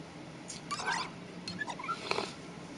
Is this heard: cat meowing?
yes